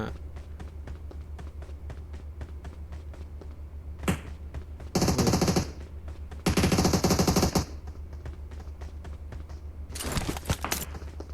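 An MK14 rifle fires in PUBG Mobile in short loud bursts of rapid shots over a steady hum, with sparser distant pops in between.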